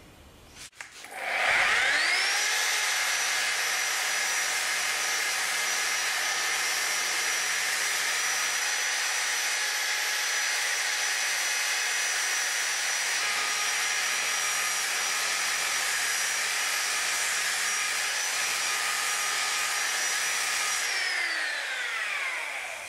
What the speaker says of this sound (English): I do just about all my shaping with a giant killer belt sander